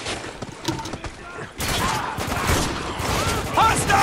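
The player's gun firing in Spec Ops: The Line, a dense, continuous rattle of shots and impacts that builds louder partway through, with battle noise and faint voices mixed underneath.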